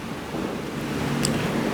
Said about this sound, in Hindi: काफ़ी तेज़ हवा चल रहा है तो मे बी थोड़ा सा नॉइज़ आए।